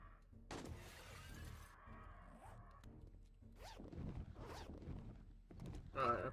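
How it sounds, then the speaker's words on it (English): Glass shatters in the zombie survival game 7 Days to Die, several breaking crashes and clatters spread across the clip, faint and distant under low game ambience. "I heard a shit ton of glass breaking"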